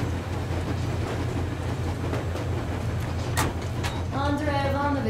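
Train rolling along the tracks in the game Metro Exodus, a steady low rumble with faint rhythmic clatter throughout and a short squeal near the end.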